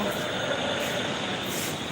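A steady rumbling hum of a metro train arriving at the platform, with a faint high squeal, moderately distant and continuous for a couple of seconds.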